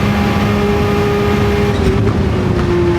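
Lamborghini Countach QVX racing engine at near top speed in a racing video game, a loud steady high-revving drone with a slight pitch rise toward the end, constant and close with no pauses.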